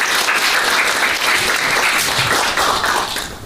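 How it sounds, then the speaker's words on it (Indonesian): A classroom of students applauds together, a dense, steady burst of clapping that fades out at the end. "Tepuk tangan dong untuk kelas."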